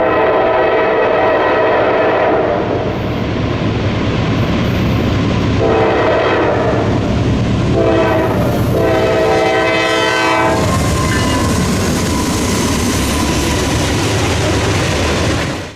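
A loud freight train hauled by GE Dash 9 diesel locomotives rumbles past close by on a steep grade at Otis Hill, Indiana, with continuous heavy clatter of wheels on rails, while a horn sounds in several blasts partway through.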